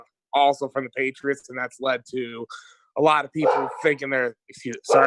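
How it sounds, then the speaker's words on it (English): Several dogs bark in the background of an indoor setting, coming as short sharp yips beneath steady, close speech from someone talking throughout. "pardon the dogs barking"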